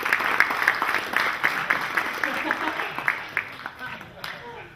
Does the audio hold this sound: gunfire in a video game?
no